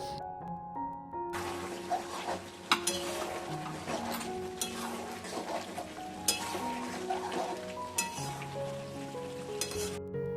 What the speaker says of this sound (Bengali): মাংসটা দিয়ে এখন ঢেকে ঢেকে হালকাভাবে কষবো